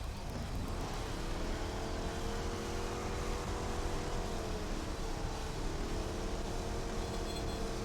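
A race car engine in the Street Outlaws 2 racing game on Nintendo Switch revs and holds a steady, loud drone, pitch rising and dipping slightly as the throttle shifts, with no talking.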